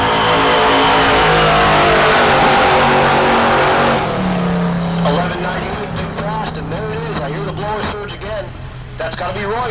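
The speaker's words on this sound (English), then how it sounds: "here he comes, the Nightmare Mustang" The Nightmare Mustang drag race car roars hard down the strip at Heartland Park Topeka, loud and sustained, then fades as it pulls away into a wavering engine drone, with a commentator talking over it.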